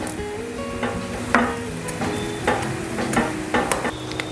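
A cheese sandwich sizzles loudly in a hot pan as it is pressed down, steady frying crackle punctuated by several scraping knocks of a utensil against the pan.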